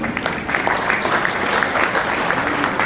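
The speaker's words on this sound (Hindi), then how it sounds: "इसलिए मैं आप सब के लिए भी ताली बजाता हूं" A gathered audience at a religious or spiritual program claps as the speaker applauds them in return, a loud, continuous patter of many hands with some speech mixed in.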